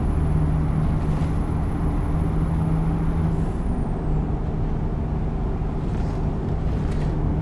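A truck engine in a truck driving video game drones steadily and loudly throughout, a rough low rumble with a faint high whine that slides downward partway through.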